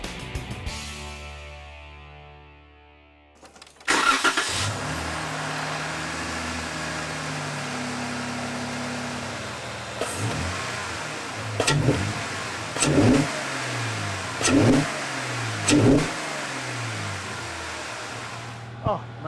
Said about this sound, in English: Those were a couple full throttle pulls there you could hear, so you could still hear plenty of throttle body